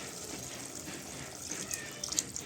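Water poured into a pot of mutton curry, a steady low gush and splash running throughout at moderate volume, with a few brighter trickling splashes near the end and no speech.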